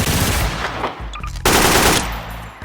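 Automatic weapon fire from a weapons addon in the video game Garry's Mod comes as loud, rapid bursts, a brief lull, then another sustained volley, all close and dominant.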